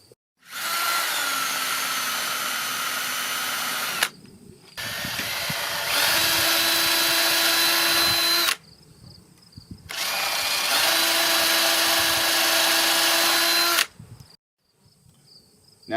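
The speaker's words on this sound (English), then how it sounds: "you can drill 1/8 inch pilot holes approximately 1 inch deep." A power drill bores 1/8 inch pilot holes about an inch deep into gate wood in three long whining runs. The runs are loud and close, with short quiet gaps between them.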